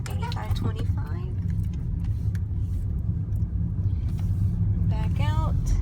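A car pulling into a driveway and backing out on a paper route, a steady low engine rumble throughout with wind noise, under intermittent talk and chirpy squeaks.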